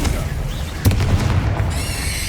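A Confringo fire spell in the video game Hogwarts Legacy goes off as a deep, rumbling explosion close by, with a sharp onset and a sustained roar that lingers under a whistling tone near the end.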